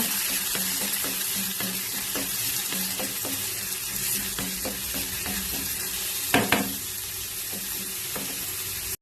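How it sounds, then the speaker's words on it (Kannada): Onions and garlic fry in a pan for a drumstick palya, crackling in oil with repeated spoon scrapes and stirs, close up, and one louder clatter near the end. Nobody speaks. "ಈರುಳ್ಳಿನ ಚೆನ್ನಾಗಿ ಫ್ರೈ ಮಾಡುವ"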